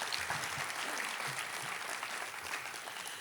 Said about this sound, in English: a quick round of applause for them